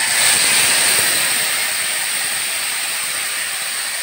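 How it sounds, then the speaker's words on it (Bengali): Spice paste of cinnamon, cardamom, ginger, cumin and dried chilli hitting hot oil for a vegetarian potato-cauliflower curry, giving a loud, steady, bright sizzle and hiss that fades slightly over a few seconds. "এখন মশলাটা তেলের ভিতর দিয়ে দিচ্ছি"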